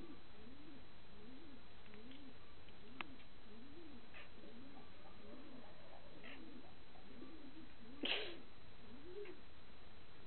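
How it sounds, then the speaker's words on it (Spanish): Pigeons cooing in repeated rhythmic rising-falling phrases, a breeding-season pair with a female in strong heat, steady and moderately near, with a brief flutter or rustle toward the end. "Está en mucho celo esta paloma"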